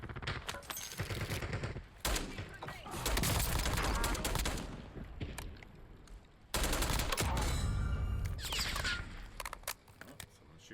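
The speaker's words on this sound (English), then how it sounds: "someone's shooting at me" Rapid gunfire bursts and automatic weapon fire in a Call of Duty Warzone battle royale match, loud volleys in several clusters with brief pauses between them, with occasional talk mixed in.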